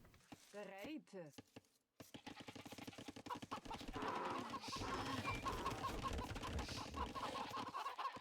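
Chickens cluck repeatedly in the Age of Empires II strategy game, a busy run of short clucks over in-game ambience, after a brief burst of voice at the start.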